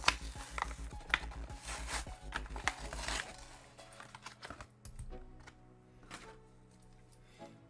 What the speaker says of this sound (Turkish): Şöyle paketini açıyorum.